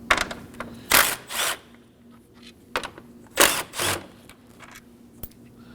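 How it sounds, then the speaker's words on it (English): A 10mm socket wrench takes out two bolts holding a reservoir tank on a 2017-2024 Nissan Armada 5.6L V8, heard as close, bright bursts of ratcheting whirs in short, spaced runs over a quiet background, with no speech. "using a 10mm socket, go ahead and take these two 10mm bolts out"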